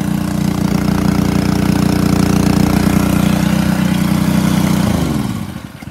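AR-60 pressure washer engine running steadily with back pressure released through a second valve, a loud continuous drone that holds for about five seconds before winding down as it is cut off.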